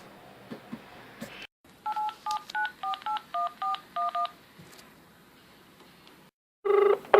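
Telephone dialing for a radio talk show call-in: a string of about ten crisp, evenly spaced touch-tone beeps, followed after a pause by a short ringing tone, heard alone without talk.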